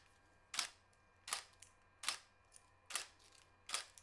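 Five quiet shutter clicks from a Nikon D750 camera, evenly spaced under a second apart, each a short soft snap, close and alone.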